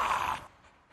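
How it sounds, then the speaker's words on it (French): A dog in the Jujutsu Kaisen anime breathes in one short, close, breathy huff that fades within half a second, with no talk. "Wesh, il y a un chien."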